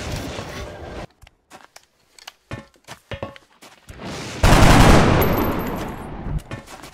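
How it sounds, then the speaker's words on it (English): Covering gunfire in XCOM Enemy Unknown: a burst of rapid shots, then scattered sharp individual cracks and clicks over a few seconds, ending in a loud sustained roar of automatic fire. "Covering fire."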